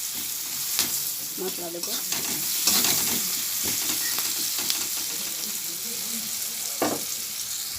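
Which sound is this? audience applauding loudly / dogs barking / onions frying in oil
onions frying in oil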